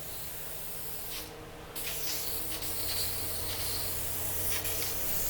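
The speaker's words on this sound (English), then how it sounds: "Let's spray. So we're gonna go with like 4 light coats, just kind of misting it on there." A steady hiss of an aerosol spray can misting clear coat continuously onto a 2006 Yukon XL grille over several seconds, with a brief sharper burst early on, close and fairly quiet.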